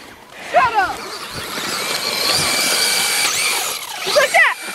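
A Traxxas Rustler VXL RC car's electric motor on a road, whining up in rising squealing bursts at the start and end with a steady high-pitched hum between, close by, while people talk.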